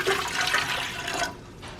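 Warm water pours into a bread maker pan fitted with a kneading paddle, a close, bright rushing splash that tapers off after about a second.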